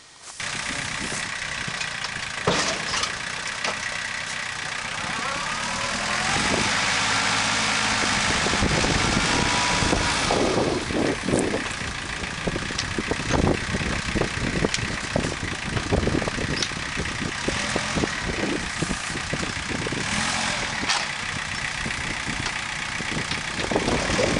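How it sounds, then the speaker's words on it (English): A Russian tractor engine idles near at hand, a steady, rough mechanical rumble with knocking and rattling that holds for over twenty seconds. "Russian tractor."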